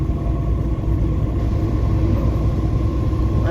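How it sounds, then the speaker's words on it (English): A grain truck rumbles past close by, a loud steady low engine roar filling the moment with no voices. "That grain truck"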